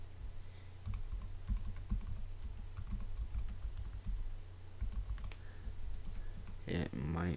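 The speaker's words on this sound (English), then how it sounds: "here, I'll just type it in" Fingers type on a computer keyboard in quick, irregular bursts of close, light clicks, with a person talking at times over the keystrokes.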